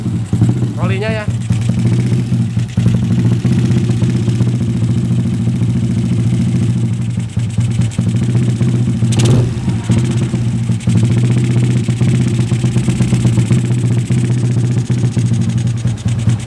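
A Yamaha Jupiter Z motorcycle bored up to 145cc with a 58.5 mm piston, set up for daily riding, runs at a steady close idle, its droning engine note continuous throughout with a brief high chirp near the start.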